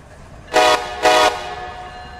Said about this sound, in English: And then Alon Ian Nasi and AJ Albanez are going to take command of this lovely train.